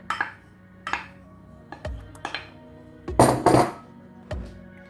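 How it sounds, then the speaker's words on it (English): Butter and light brown sugar being beaten together in a bowl for cupcake batter, heard as a series of sharp clinks and knocks of utensil against bowl, roughly rhythmic, with a louder scraping burst in the middle. "In a bowl I'm going to beat together butter,"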